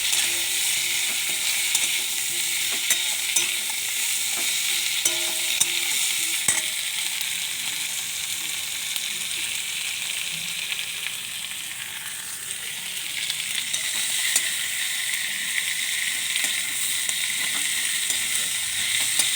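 Ginger paste and two green chillies fry in a pan with a steady, close sizzle that holds for nearly twenty seconds, broken by occasional light clicks of stirring; no one speaks.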